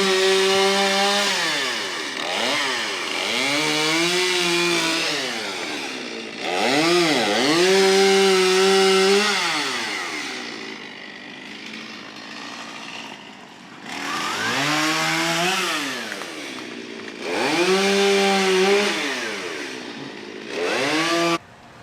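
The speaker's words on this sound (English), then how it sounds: "one man with the chainsaw can work miracles." Up close, a chainsaw cutting wood after an ice storm rises and falls through repeated revving bursts, whining high under load and dropping back to idle between cuts.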